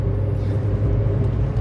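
Volkswagen Polo compact car with a 1.6 engine accelerating, heard from inside as a steady, loud low engine rumble with road noise, no talk.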